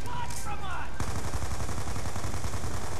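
Rapid bursts of gunfire crackle and rattle from a Black Ops 2 zombies match, Mob of the Dead map, sharp repeated shots driving hard after a brief pause, with tense chatter in the background.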